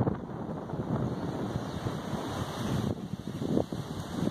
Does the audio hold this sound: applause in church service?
no